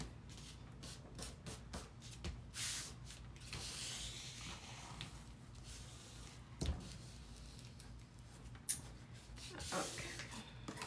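Rubbing along score marks on a vinyl placemat by hand, close and quiet: soft brushing and scuffing strokes with a few light taps and knocks.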